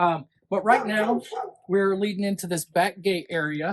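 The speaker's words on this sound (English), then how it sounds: "Apologize about the dog." A dog barks several times in a backyard garden near a back gate, sharp yaps overlapping with continuous conversation from people touring the garden.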